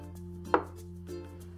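A knife cuts through a block of tofu with one soft, close thunk onto the board, then a fainter second contact, in an otherwise quiet kitchen.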